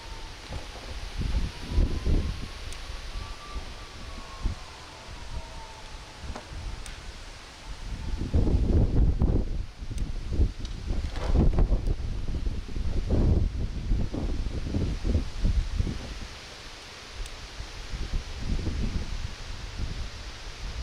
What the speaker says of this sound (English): is the wind getting harder and harder?